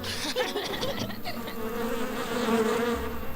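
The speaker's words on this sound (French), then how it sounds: "Les abeilles, comment qu'elles s'en vont?" Cartoon bees buzz away from campfire smoke, a busy droning hum with a brief light chuckle early on, then a steady wavering buzz.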